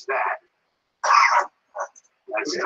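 Several short, harsh coughs or throat-clearing bursts separated by brief silences, close and fairly loud.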